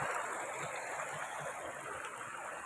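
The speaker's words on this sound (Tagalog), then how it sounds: "Yan ang tuktok ng falls." Rushing water roars steadily at the top of a waterfall in Ilocos Sur, a dense, continuous wash of sound heard close by with no pauses.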